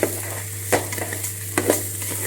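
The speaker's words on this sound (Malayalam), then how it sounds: "നല്ലോണം അരി വറുക്കുക" Rice roasts in a pan for chicken biryani, giving a soft continuous sizzle with a few scraping stirs of a spoon, under a steady low hum.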